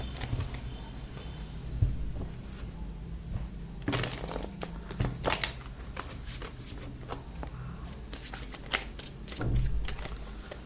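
Tarot cards being shuffled by hand, repeated soft riffling and slapping bursts at irregular intervals, close and fairly quiet, with no talking.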